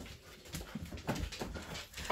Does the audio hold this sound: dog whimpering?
yes